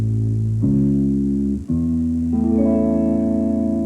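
Guitar sounding a chord's root, third and fifth against the chord, a few sustained notes stepping upward in turn, close and steady with no talking.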